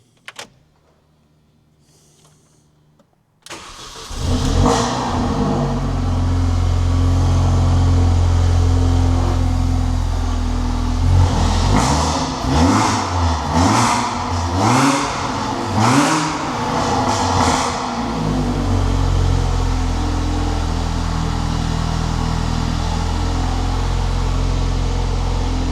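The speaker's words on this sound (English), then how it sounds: "let's try to hear the cold start of the Mini." A Mini R53 Cooper S engine cold-starts after a brief near-silence, catching abruptly and settling into a loud, steady idle with a few rising revs in the middle, close by with no talking.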